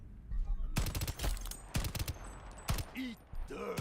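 Pistol shots in the shooter Shatterline fire in short, sharp bursts of rapid cracks, loud and close, separated by brief pauses.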